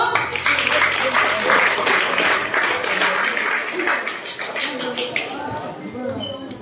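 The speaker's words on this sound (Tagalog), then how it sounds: "Yan lang bang palakpak niyo?" An audience at an onsite corporate recognition event claps in sustained, dense applause that slowly tapers, with a voice talking over it.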